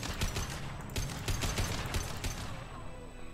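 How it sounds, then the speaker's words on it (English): Concussive shots fired in the video game Mass Effect 2, a rapid volley of loud, close bursts in quick succession over about three seconds, with no voice over them. "So, three concussive shots heading your way."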